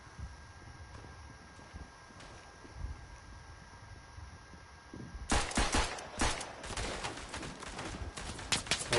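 Machine gun fire in the WW1 game Verdun comes in after a quiet stretch of faint ambience as a rapid burst of sharp cracks, fairly close and irregular, lasting several seconds.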